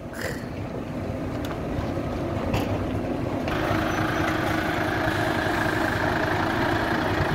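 A heavy truck engine idles with a loud, steady low rumble, then rises slightly in level as the truck pulls away, with scattered clatter and no voices.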